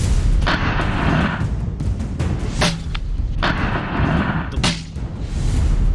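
Rapid bursts of gunfire from Pakistani soldiers' guns along the Line of Control, sharp repeated reports over a dense, continuous rumble of distant firing, with no let-up.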